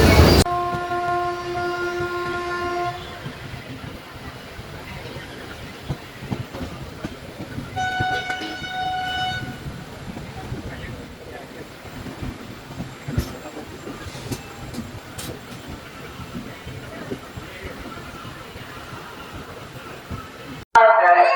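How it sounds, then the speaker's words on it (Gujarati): A train rumbles steadily along the rails near Ahmedabad's Kalupur station, with a horn sounding near the start and again briefly midway over continuous rolling noise. "અત્યારે 6 વાગ્યાની ટ્રેન છે એમાં મારે જવાનું છે"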